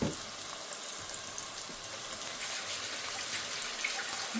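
Ginger and garlic fry in a pot for an Andhra-style mutton curry, giving a steady, close sizzle with a watery hiss that runs evenly throughout and no voices.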